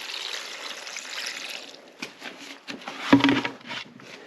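Water poured from a container into pitchers to dilute a cleaner left to soak overnight, a steady splashing trickle at first, then several short uneven pours with a louder gurgling splash near the end, close by with no talk.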